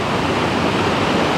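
Mountain water flows in the Tatra Mountains near Zakopane, a steady, loud broadband rush with no pauses.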